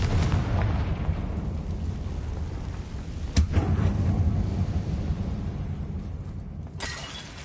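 A fiery Confringo spell blast in the game Hogwarts Legacy, a sharp crack followed by a long rumbling, crackling roar that fades, then another burst near the end, with no speech.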